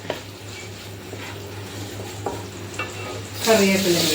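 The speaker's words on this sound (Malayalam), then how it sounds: "അതും കൂടി ഇട്ട് കൊടുത്തു ഒരു പച്ച മണം മാറുന്ന വരെ ഒന്ന് ഇളക്കി കൊടുക്കാം" Chopped green chillies stirred and fried in a pan for white chickpea chole masala, with a steady close sizzle and spatula scrapes that swell louder near the end.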